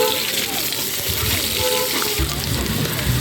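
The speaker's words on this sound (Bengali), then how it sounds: "তারপর ওই কড়াতেই কালো জিরে ফোড়ন দিয়ে আলু কলাটা ভেজে নিয়েছি ভালো করে।" Potato and raw banana fry in a kadai with black cumin seeds, a steady close sizzle throughout with soft stirring scrapes, and a voice speaking over it.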